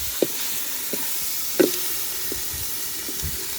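Beef fries on a hot griddle with a soft, steady sizzle, broken by a few sharp knocks and scrapes, probably utensils hitting the metal, heard close by with no talking.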